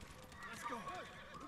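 A horse neighs with a wavering whinny in the video game Ghost of Tsushima, set against busy game noise and hoof clatter with speech underneath.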